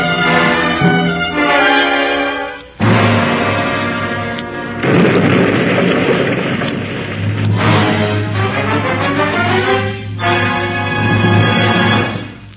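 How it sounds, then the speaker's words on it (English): A radio drama's explosion effect fills the clip with heavy, rumbling booms and crashing noise that swell and surge repeatedly over about twelve seconds, loud and dense, with no voices. "Didn't you hear that explosion?"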